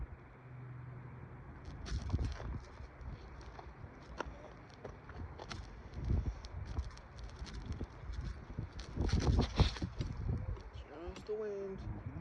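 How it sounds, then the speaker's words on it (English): Gusty wind buffeting the microphone outdoors during a fishing outing, with rumbling low bursts that swell and fade, heard under intermittent conversational voices. "Just the wind."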